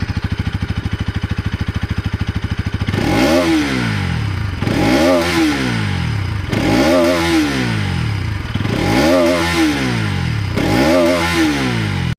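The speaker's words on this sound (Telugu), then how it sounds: "ఎగ్జాస్ట్ సౌండ్ ఏ విధంగా ఉందో ఒకసారి చెక్అవుట్ చేద్దాం." A 2025 Bajaj Pulsar NS200 with an underbelly exhaust idles with a rapid, even putter, then is revved in five sharp, loud blips, each rising and falling back to idle, close up with no talk.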